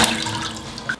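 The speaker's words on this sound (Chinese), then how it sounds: "现在把五花肉洗一下" Pork belly is rinsed under a running tap in a kitchen, a close, steady rush and splash of water lasting about a second, with no speech.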